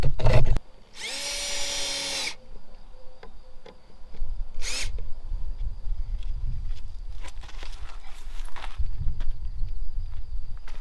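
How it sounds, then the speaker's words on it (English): A power drill briefly whirs, driving screws to fit hinges on a door at an old chateau, a short loud burst followed by handling clunks and scattered knocks nearby. "So I just need to screw the hinges on this one,"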